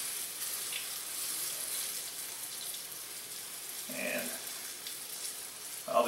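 Chicken pieces frying gently in warm olive oil in a pan for a chicken curry, giving a steady, faint, soft sizzle with a few brief stirring or clinking sounds near the end.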